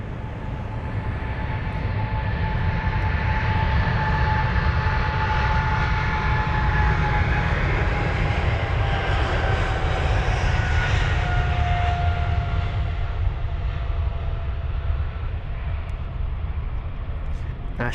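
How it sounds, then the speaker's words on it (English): Jet engines of a 13-year-old British Airways Boeing 777-300ER roar steadily as flight BA81 departs Heathrow, a loud, sustained rumble with a faint whine drifting across it and a commentator's voice running over it. "We've got BA81 off to Accra, the 777 or the 777-300DR"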